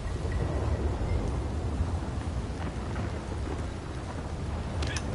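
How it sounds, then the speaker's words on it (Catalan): Steady rain pours with deep thunder rumbling in a storm in the PS4 game Red Dead Redemption 2, a dense continuous wash of rain with no talk. "Hòstia, els llamps molen mil."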